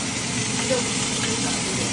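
Steady sizzling of chicken frying in a pan for adobo, a constant crackling hiss close by, with faint voices in the background.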